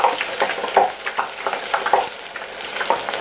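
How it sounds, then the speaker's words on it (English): Food lowered slowly into a hot chip pan of oil, giving a close, loud crackling sizzle with popping bursts throughout. "we're going to put this in slowly and you'll see it start sizzling"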